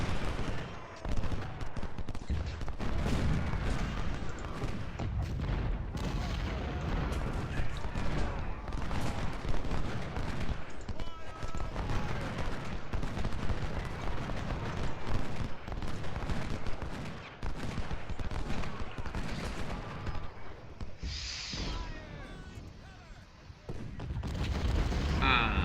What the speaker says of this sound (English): My artillery is finally starting to go into action.